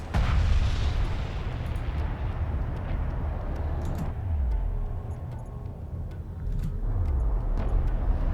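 Strike craft bombing runs in Homeworld: Deserts of Kharak, heavy rumbling explosions with descending booms rolling out at intervals over a steady low engine drone, no speech.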